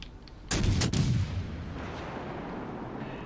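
Guns fire from the Italian destroyer RM Paolo Emilio during a naval battle in World of Warships Legends, a loud close pair of booms followed by a long fading rumble.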